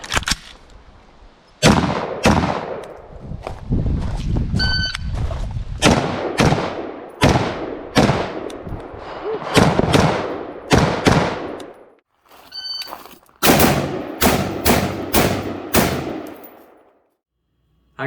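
Rapid gunfire from a Vietnam-era XM16E1 (M16) rifle during a modern shooting drill: many loud, close, sharp shots in quick bursts and strings with short pauses, plus a few metallic clinks, and no talking.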